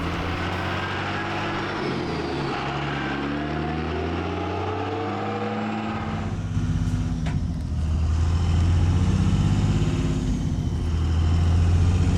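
Ford F-350 truck with a swapped 24v Cummins diesel engine and 13-speed gearbox running; a continuous low engine drone with shifting tonal bands, growing a little louder and rougher in the second half, no voices.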